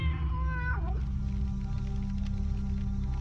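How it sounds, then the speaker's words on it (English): A many-eyed, noseless furry creature in the dark fantasy game Tormentum lets out a drawn-out, falling cat-like meow over a loud, steady droning game soundtrack. "It meows."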